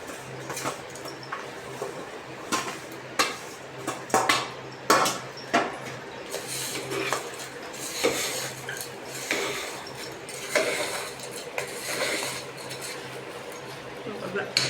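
A spoon stirs sweet rice with milk, grated jaggery, cardamom powder and coconut pieces in a pot, making irregular metallic clinks and scrapes close by while a person talks.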